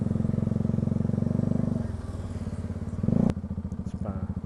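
A motorcycle engine thrums steadily while riding, close and loud with a pulsing rhythm that shifts in pitch as the throttle changes, with a brief clatter near the end.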